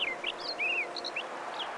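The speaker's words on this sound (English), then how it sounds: "Even in autumn, the Townsend Solitaires are singing their brains out." A Townsend's Solitaire sings in autumn in Oregon, giving a series of thin, clear whistled notes and warbles at moderate distance against a quiet outdoor hiss.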